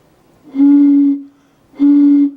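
Blowing across the mouth of a bottle partly filled with water makes a clear, hollow whistle-like tone, heard twice as two steady half-second notes separated by a short silence.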